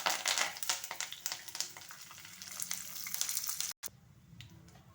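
Curry leaves and dried red chillies frying in oil for tamarind rice give off a steady crackling sizzle, busy and bright at first, then briefly cut out and returning quieter.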